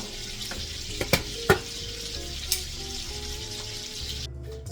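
Bone-in lamb loin sears in a pan with a steady, moderate sizzle, broken by a few sharp clinks and scrapes before the hiss cuts out at the end.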